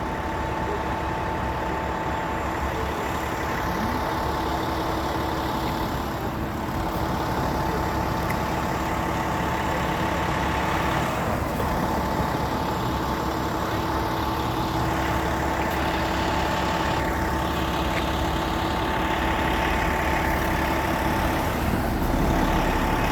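Fire truck engine idling as a steady loud low rumble with a constant tonal hum, running unbroken throughout with no voices over it.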